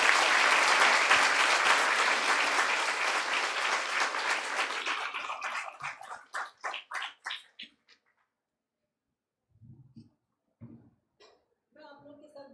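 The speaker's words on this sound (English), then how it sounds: "So one more time, a big round of applause for" A lecture audience breaks into loud, dense applause that thins into scattered claps after a few seconds and then stops. Silence follows, then brief speech.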